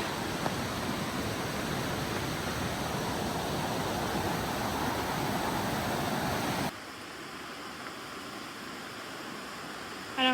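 Inwood Creek rushing beneath a bridge, a steady broadband hiss of moving water heard close for most of the stretch, then dropping to a quieter, thinner wash near the end.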